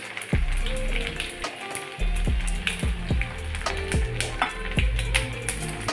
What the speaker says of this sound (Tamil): கடுகு போட்டுக்கிறணும், கொஞ்சம் பெருங்காயத்தூள் போட்டுக்கிறணும்